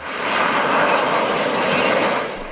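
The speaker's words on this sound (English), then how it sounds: "As well as the UL-39 takeoff." A UL-39 jet aircraft takes off at an air show, its engine producing a loud, steady broadband roar that swells slightly and holds throughout, with no voices present.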